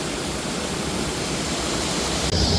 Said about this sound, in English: I'm actually in the creek right now.